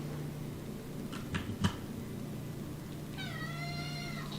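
A cat meows indoors in a short rising-and-falling call near the end, after a few faint knocks, over a steady low room hum.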